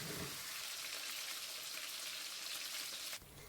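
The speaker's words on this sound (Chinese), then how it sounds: "中小火慢煎，煎的过程多转一转锅" Marinated chicken wings pan-frying slowly over medium-low heat, a soft continuous sizzle and crackle that cuts off abruptly near the end, with no speech.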